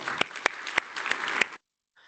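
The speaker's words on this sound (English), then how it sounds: "I think that deserves an applause." Brief burst of audience applause at an online community show-and-tell session, dense clapping for about a second and a half with a few louder claps, then cutting off abruptly into near silence.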